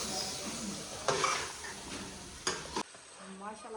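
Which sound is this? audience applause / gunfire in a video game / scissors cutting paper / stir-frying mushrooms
stir-frying mushrooms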